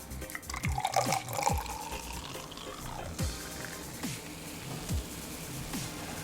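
Mountain Dew soda poured from a bottle into a container, a close, bubbly liquid trickle with scattered drips and splashes running steadily throughout.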